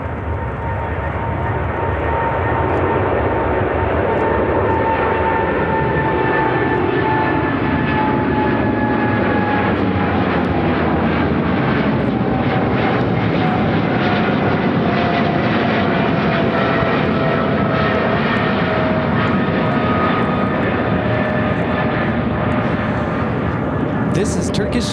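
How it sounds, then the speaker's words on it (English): A Turkish Cargo Boeing 777 freighter takes off from Chicago O'Hare, its powerful engine roar loud and sustained with a sweeping tonal whine that drifts downward as the aircraft passes. A voice talks over it. "This is Turkish Cargo 6557 taking off to Quito on a 777 freighter."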